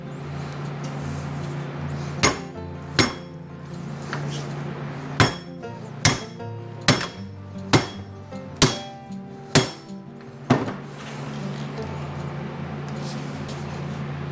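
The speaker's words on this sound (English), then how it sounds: "you just go medieval on them with a dead blow hammer" Nine sharp, heavy dead blow hammer strikes on bronze suspension bushings, spaced about a second apart, with a ringing clink after each blow over a low background hum.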